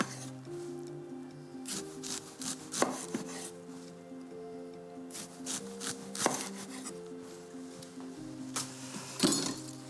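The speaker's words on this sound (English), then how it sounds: "So I'll prepare my fennel first. I want to cut this into slices about 1 centimetre thick" A knife slices a fennel bulb into thick slices, about one centimetre each, on a board, giving a run of sharp, irregular chops over a steady tonal background hum.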